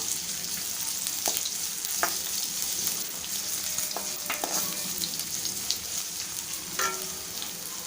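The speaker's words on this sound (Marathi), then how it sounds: "इथे आपण मीडियम आकाराचा एक कांदा उभा चिरून घेतलेला आहे, तो टाकूया आपण। परतून घ्यायचं आपल्याला" A lengthwise-sliced medium onion sizzles and sautés in a hot pan for a spicy noodle dish, a steady crackling fry broken by occasional scrapes and stirring clicks, close and without talk.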